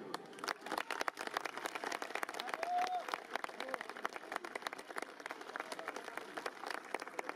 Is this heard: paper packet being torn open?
no